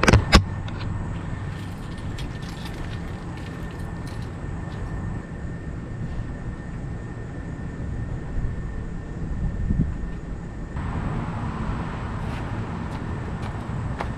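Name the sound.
Jeep engine starting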